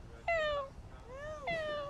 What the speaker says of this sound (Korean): 고양이, 고양이.